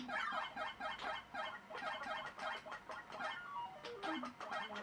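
Chirpy synthesized bird calls from Donkey Kong Junior on the Commodore 64 play as quick, rhythmic electronic blips with descending tone runs, a steady chiptune game soundtrack throughout with no voices.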